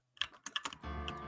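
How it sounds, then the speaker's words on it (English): A burst of computer keyboard typing, several quick irregular keystrokes up close, followed by a steady background hum. "Someone's typing."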